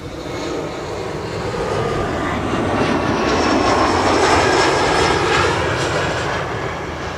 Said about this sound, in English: there's an airplane with propellers, I can hear it, you can too probably